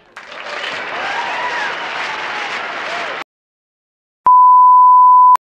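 Applause and crowd noise for a prom dress at a high school gathering, steady and fairly loud for about three seconds, then stopping abruptly; a loud pure electronic beep tone follows after a short silence.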